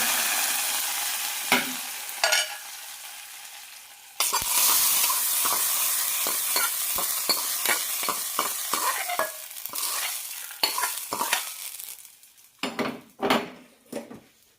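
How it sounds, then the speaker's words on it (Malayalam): Mustard seeds, curry leaves and shallots tempering in a hot pan for a Palakkad-style puli, with steady sizzling and frying, spoon stirring and scraping against the metal, and sharp popping near the end. "താളിക്കുന്നതിനായി കടുക് കറിവേപ്പില ചെറിയുള്ളി എടുത്തിട്ടുണ്ട്"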